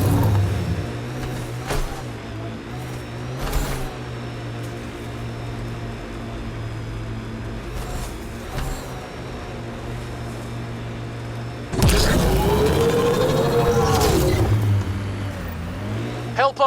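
In Mass Effect Andromeda, the six-wheeled Nomad vehicle drives over dunes with a steady low engine drone, brief bumps, and a louder revving surge toward the end, with game voices talking over it.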